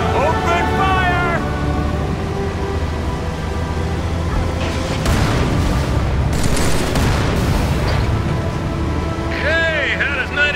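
Heavy gunfire and booming explosions in the Halo 3 Ark level, dense bursts and blasts mixed with game music and character voices, loudest in the middle stretch.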